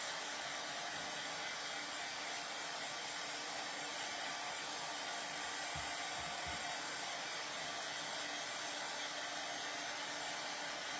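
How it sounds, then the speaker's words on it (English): A hair dryer blows steadily on transfer paste spread on a tile, making a constant, even whirring roar with no pauses and no talking. "I'm drying this because when I put the transfer back down, I don't want this paste to pull up"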